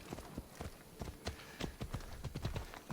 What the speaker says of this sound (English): Where's the horse?